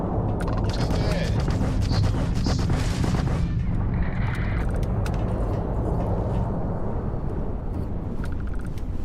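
Spaceship weapons fire in Starfield, a burst of rapid booming shots and blasts over a low rumble, then a continuous engine-like drone with faint clicks.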